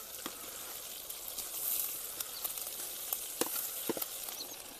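Chilies and ginger paste fry in hot cooking oil for gobi manchurian, a quiet, continuous sizzle broken by scattered sharp pops and crackles.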